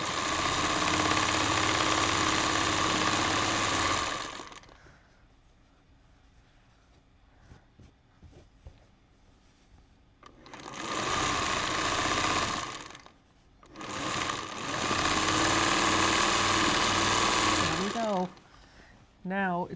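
A sewing machine stitches quilt pieces for a Star Cabins quilt top, chain-piecing onto a leader. It runs in three loud, steady whirring stretches separated by quiet pauses, with a voice heard briefly near the end.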